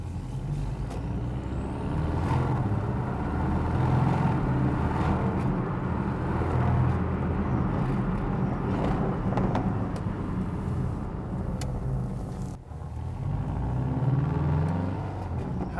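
Engine of a Porsche 718 GTS with 2.5-litre motor and PDK gearbox gives a deep, steady burble and grunt, a loud continuous low rumble with small shifts in tone and no voices over it.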